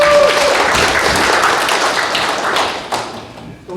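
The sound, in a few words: applause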